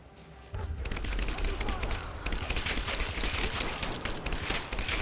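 Rifle fire in the video game Rise of the Tomb Raider, a dense, continuous fusillade of rapid gunshots that holds steady for several seconds and stays loud and close, with a voice speaking over it.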